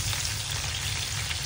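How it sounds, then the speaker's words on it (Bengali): Salmon fish frying in hot oil gives a steady, dense sizzle and crackle that stays loud and even throughout, with no voices. "বাট আমি এই সেলমন ফিশটা ভেজে নিচ্ছি।"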